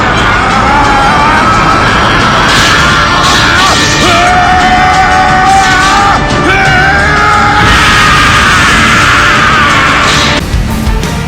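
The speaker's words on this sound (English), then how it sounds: "from there he went and screamed" A loud, sustained anime-style scream from a character during an intense battle, rising and straining over a dense roaring backdrop for several seconds.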